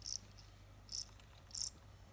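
Crickets in a breeding box chirp in three short, bright bursts spaced about evenly apart, fairly quiet over a low steady hum.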